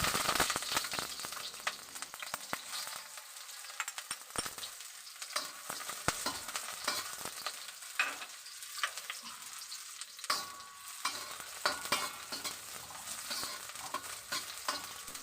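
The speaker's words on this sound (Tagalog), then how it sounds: "So dahil mainit na, ilagay ko na yung sibuyas" Onion and crushed garlic sizzle in a hot pan for a Filipino ginataang tilapia dish, with a steady loud frying hiss and repeated scraping stir strokes throughout, no talking.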